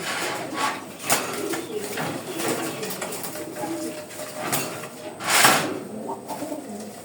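A male Kamagar pigeon and other birds in a loft coo under a broad, noisy background, with a few sharp knocks and bursts of movement.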